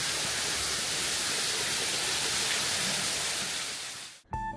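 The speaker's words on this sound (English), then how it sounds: "Hey, waterfall." Waterfall in the south of France, a steady broadband rush of falling water filling the clip at constant loudness, then cutting off abruptly near the end into a brief, quieter different sound.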